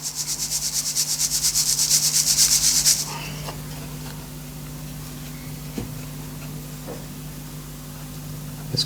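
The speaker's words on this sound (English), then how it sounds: "I'm using my fingers to try and press the sand into those detail areas" Fingers press dry moulding sand into the detailed centre of a match plate pattern, giving a steady, close, scratchy rubbing for about three seconds before it drops to quiet handling noise with a faint low hum.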